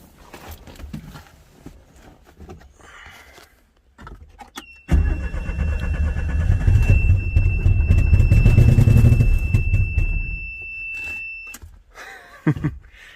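A Geo Metro or Datsun 210 engine cranks and catches with a loud start, then runs and revs for several seconds under a steady electronic tone before settling.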